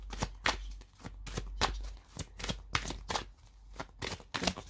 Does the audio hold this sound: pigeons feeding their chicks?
no